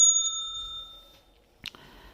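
A bicycle-style bell rings with a bright sustained tone that fades over about a second, followed by a faint short click and rattle near the end.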